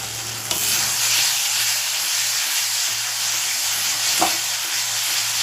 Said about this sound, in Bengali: এই মশলাটাকে একটু ভালো করে কষিয়ে নেব